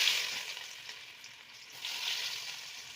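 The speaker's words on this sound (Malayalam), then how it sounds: "അപ്പോൾ ഇഞ്ചി വെളുത്തുള്ളിയൊക്കെ നന്നായി മൂത്ത് വന്നിട്ടുണ്ട്." Ginger and garlic frying in hot coconut oil in a pan, giving a steady close sizzle that swells again toward the end, with no talking.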